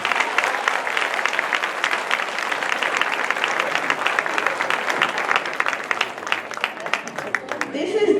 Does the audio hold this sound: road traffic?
no